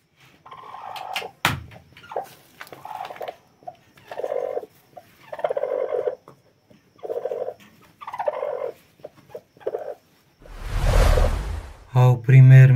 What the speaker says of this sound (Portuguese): nossa galinha tá aqui chocando aí